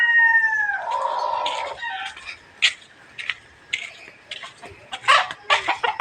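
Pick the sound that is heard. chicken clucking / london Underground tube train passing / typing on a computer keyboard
chicken clucking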